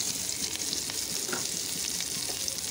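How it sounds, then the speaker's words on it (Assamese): Onions frying in oil in a wok with five-spice and green chilli, a steady dense sizzle with scattered pops and crackles running throughout at close range, no voices. "মই ভাজি লৈছো পিয়াজ তেলতে"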